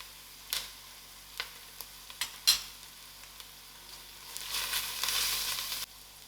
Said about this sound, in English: And allow this to fry for about 2 minutes. I'm adding in my spices.